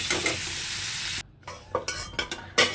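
Green and dry chillies in oil sizzle loudly up close, then the sound breaks off abruptly into near silence before a series of short sizzling bursts and stirring scrapes return in uneven pulses.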